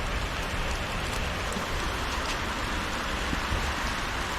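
Steady rain falls outdoors as a constant dense hiss of drops on surfaces, unbroken and even throughout, with no voices.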